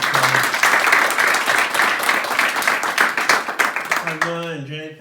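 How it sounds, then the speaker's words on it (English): A small group at a home gathering applauds together, brisk clapping for most of the stretch before it thins out as a voice begins speaking near the end. "Let's give him a round of applause."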